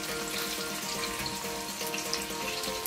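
Onions sizzle in hot oil in a pan while vegetable fried rice is started, a steady close frying hiss with faint tonal music or hum running underneath and no voices.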